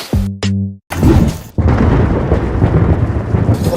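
Two short tonal sounds come first. Then a sharp thunderclap cracks loudly and rolls into a long, heavy rumble of a storm that fills the rest of the clip.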